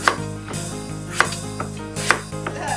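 A knife chops through butternut squash on a cutting board: several firm, evenly spaced thuds, close and clear, with no talking.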